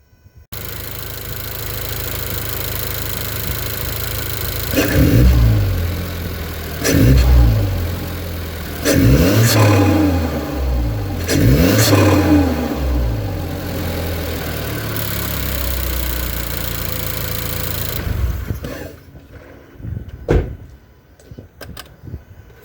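Mazda CX-30 Turbo engine fitted with a CorkSport cold air intake, revving repeatedly in sharp bursts over a steady idle, loud and close, then cutting off near the end.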